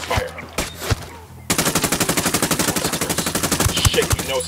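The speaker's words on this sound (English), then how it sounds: "Opening fire." Automatic gunfire in the video game Ghost Recon Wildlands: a few isolated shots, a brief lull, then a long, loud, rapid burst of evenly spaced rounds.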